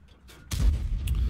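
A tank cannon fires in World of Tanks, a single loud deep boom that lands abruptly after a quiet lead-in and trails off into a heavy low rumble.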